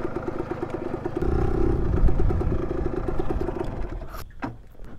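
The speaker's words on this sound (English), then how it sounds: "1978 KE100. What a great little bike." A 1978 Kawasaki KE100 dual sport motorcycle with its small single-cylinder engine running nearby, a steady putting idle that swells slightly mid-way and fades with a clatter near the end, no speech.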